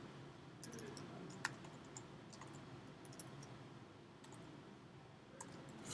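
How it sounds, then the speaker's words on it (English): Computer keyboard keys clack in quick irregular bursts of typing during Unity 2D coding, faint and close, with no talking. "let me start typing first"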